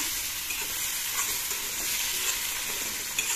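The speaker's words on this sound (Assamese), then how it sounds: "আদা আৰু নহৰু কেঁচা কেঁচা গোন্ধটো অলপ যাবলৈ দি এইখিনি ভাজি" Swamp eel fish frying with ginger-garlic paste in a pan, a steady loud sizzle with faint stirring scrapes throughout, no voices.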